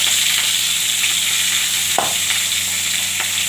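Mango pieces with five-spice mix and turmeric fry in a pan, giving a steady close sizzle and a single sharp scrape of stirring near the middle.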